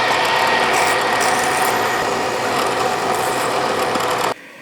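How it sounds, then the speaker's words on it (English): A 1/4 inch pilot drill cuts all the way through a workpiece on a Bridgeport milling machine, giving a steady close mechanical whir and grind with a faint rattle that runs almost four seconds and then stops abruptly. "And now 1/4 inch pilot drill all the way through."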